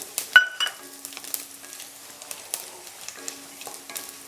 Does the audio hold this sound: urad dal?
yes